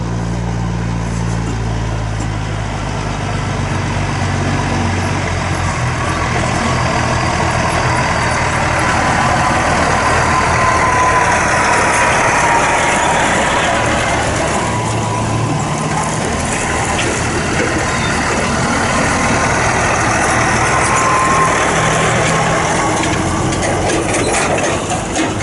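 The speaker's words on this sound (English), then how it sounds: "Here comes the trucks." Logging trucks rolling past at a logging site, a loud sustained engine rumble with rattling, clanking mechanical noise that swells as they pass close by and then holds, continuous for the whole stretch with no talking.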